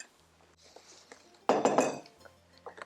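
Chopped walnuts and pumpkin bar ingredients are stirred in a bowl, starting with faint scrapes and then a loud burst of clinking and scraping from a utensil against the bowl, followed by a few quieter taps.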